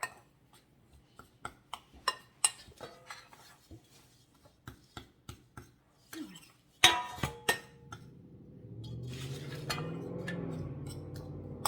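Brown sugar and spices stirred in a bowl with a spoon, giving a quick run of light, close clinks and taps that thicken into a brief burst of scraping before a steadier, softer swirling sound.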